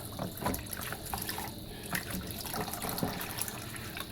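Aquarium water pouring and splashing while a filter sponge is rinsed, a soft, continuous trickle with small irregular splashes and drips.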